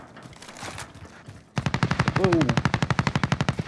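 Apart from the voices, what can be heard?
gunfire in the video game Warzone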